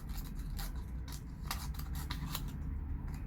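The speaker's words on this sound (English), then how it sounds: "So yeah, the scissors works well." Small pocket scissors from an everyday-carry micro kit snip through material in a quick run of close, crisp cuts, one after another.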